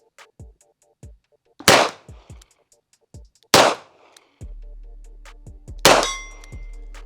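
Three sharp shots from a Bodyguard pocket pistol, each a loud cracking bang with ringing metallic tail, spaced about two seconds apart amid lighter clinks and handling clatter.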